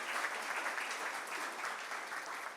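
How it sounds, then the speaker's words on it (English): A hall audience at a business school commencement lecture applauds steadily, a dense, even wash of many hands clapping throughout, moderately distant and with no voices over it. "let's again have a round of applause for Professor C."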